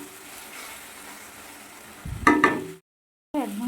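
Turmeric and spices are stirred in oil in a pan, giving a short burst of sizzling and scraping after a quiet start, then a sudden cutoff before the sizzle returns.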